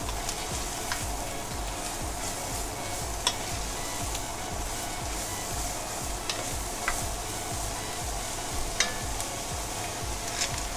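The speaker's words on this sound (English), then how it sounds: "You will then add your celery, sauteing it for another 1 minute." Celery for pancit bihon sautés in a hot pan, a steady close sizzle with rhythmic stirring scrapes and a few sharp utensil clicks throughout.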